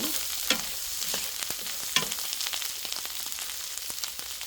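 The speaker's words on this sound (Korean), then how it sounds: "이렇게 해서 볶아주세요 한 10분 정도? 5분, 10분만 볶으셔도 돼요." Salted cucumber stir-frying in a pan makes a continuous close sizzle, broken by repeated stirring scrapes and a couple of sharper spatula knocks.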